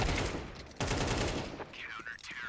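A grenade bursts in Counter-Strike on the Mirage map, a loud sharp blast that cuts off suddenly and is followed by more crackling gunfire and a short trailing rumble.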